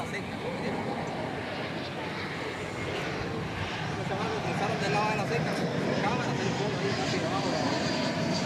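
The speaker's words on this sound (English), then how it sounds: "our final approach, is American Flight 2535 from San Diego in California" American Airlines flight from San Diego on final approach at Dallas Fort Worth Airport, a continuous broad jet engine roar at moderate distance, with people talking throughout.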